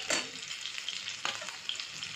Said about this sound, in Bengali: বেগুনটা ঠিক এরম ভাজা হবে